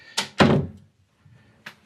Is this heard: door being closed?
yes